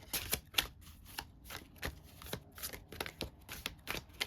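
Madame Endora's oracle fortune cards riffle-shuffled repeatedly at close range, a quiet series of crisp papery bursts in an uneven rhythm with no talking.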